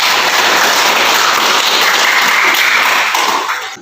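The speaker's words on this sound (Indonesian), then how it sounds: "Tepuk tangan untuk kita semua dulu." A classroom of students claps together for a few seconds at close range, a dense, steady patter that fades slightly at the end.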